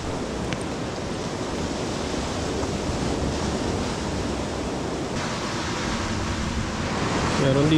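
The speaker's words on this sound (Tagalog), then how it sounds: "Pag gumapas yung alon." Sea waves wash steadily onto a shore at a beach campsite, a loud, continuous surf roar that swells slightly toward the end, with no voices.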